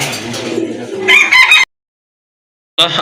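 A pair of pigeons calls at a pigeon sale in two short bursts of soft, throaty cooing and clucking. The calls are close and fairly loud, followed by a silent gap and a brief final call.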